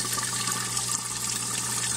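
A small pump runs water through a DIY PVC overflow and sump system, a steady close splashing and gurgling wash of water that stays constant throughout with a faint low hum beneath, no voices.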